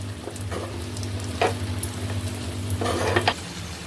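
Dry fruits fry in hot ghee for a carrot halwa, crackling and sizzling steadily up close, with occasional scrapes and taps of a spoon stirring in the pan.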